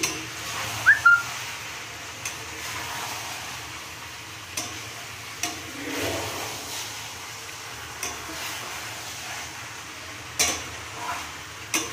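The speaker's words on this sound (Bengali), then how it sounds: "ভাজা ফুলকপি দেওয়ার পর ভালো করে কষিয়ে নিচ্ছি।" A spatula scrapes and stirs through fried cauliflower in a pan at regular intervals over a faint, low sizzle.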